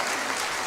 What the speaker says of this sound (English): Let's get some clapping.